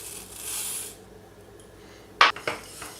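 Soup with vermicelli stirred in a pot: a soft rubbing swirl at first, then a quiet pause, then two sharp metallic clinks of a spoon against the pot with a faint scrape after them, no voices.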